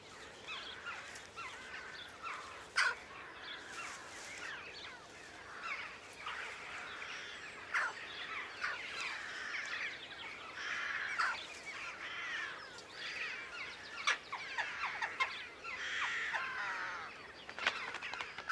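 Young jackdaws gathered in a nursery group give harsh, overlapping caws and chattering calls throughout, a busy flock of many birds at moderate distance with sharp individual calls popping out now and then.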